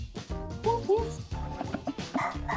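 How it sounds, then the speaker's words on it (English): A little dog yips and barks in short, high bursts, a few quick yaps close by, mixed in with people talking over it. "Because it is a little dog, right?"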